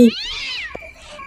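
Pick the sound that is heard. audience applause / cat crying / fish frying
cat crying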